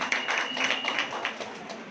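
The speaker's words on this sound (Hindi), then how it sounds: "तालियां बजाकर स्वागत करिए।" Applause welcomes the chief guest, a member of the Uttar Pradesh women's commission, at a Women's Day event at Maharani Laxmibai Medical College. The clapping is steady and moderate, from an audience in a hall.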